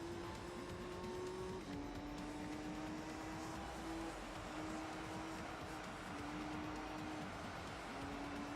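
A racing car's engine drones steadily in Gran Turismo 3, holding a high rev pitch that steps up through gear shifts, with broad tyre and road noise throughout as it drifts through corners; faint overall with no talking.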